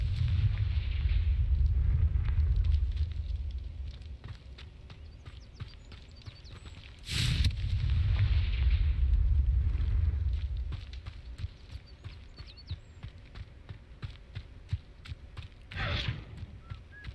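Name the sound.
Confringo blasting spell explosion and fire, from a video game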